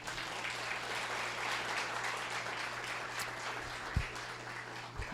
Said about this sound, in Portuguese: Você perdeu uma ótima oportunidade de aplaudir ao Senhor.